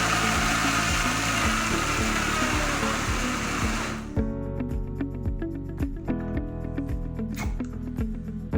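A strong kitchen blender runs loudly while blending soup ingredients with water, then cuts off abruptly about halfway, leaving clattering and a low rhythmic thudding afterward.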